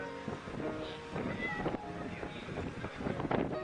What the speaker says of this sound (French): j'ai un vent froid qui vient à ma droite